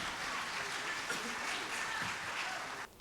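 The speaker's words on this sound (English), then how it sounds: "Let's give them another round of applause." Audience applause for the National Youth Orchestra after a performance, a steady wash of many hands clapping at moderate distance, fairly faint and continuous before cutting off near the end.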